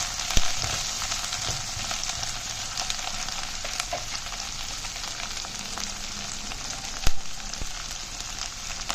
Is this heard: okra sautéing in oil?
yes